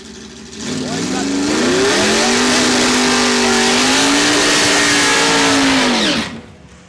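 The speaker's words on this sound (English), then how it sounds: "We hear one vehicle, we don't hear the Tesla electric vehicle top end." A single drag race car at a points race at Saskatchewan International Raceway roars down the track, loud and close, holding a steady high-revving note for about five seconds before fading quickly, with an announcer's voice faintly under it.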